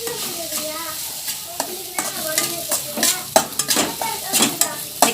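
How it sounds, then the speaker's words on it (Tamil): Puffed rice upma is stirred in a pan, giving rapid rhythmic scraping and rustling strokes with metallic clinks of the spoon against the pan over a light sizzle, close and fairly loud, with no voices. "இப்போ நல்லா கிளறி விட்டுலாம்"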